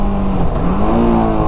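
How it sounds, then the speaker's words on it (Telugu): TVS Apache RR310 motorcycle engine revving as it is downshifted from sixth gear through a race-tuned slipper clutch, a steady near drone with rising and falling pitch sweeps throughout. "6th గేర్ నుంచి నేను ఇప్పుడు డౌన్ చేశాను అనుకోండి"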